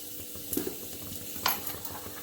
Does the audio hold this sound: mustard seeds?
yes